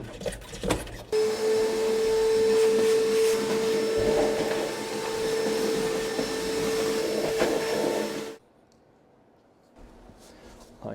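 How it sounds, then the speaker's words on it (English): A vacuum cleaner runs loud and steady with a high whine while sucking debris out of a freshly drilled hole, then cuts off abruptly, leaving near silence and a few faint knocks. "Let's vacuum this out first"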